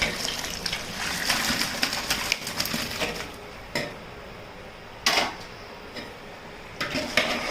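Water splashes and gushes into a pot holding raw chicken for a homemade Salem-style dum biryani, a few short pouring bursts close by with faint kitchen clatter between them.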